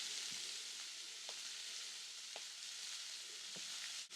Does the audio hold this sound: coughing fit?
no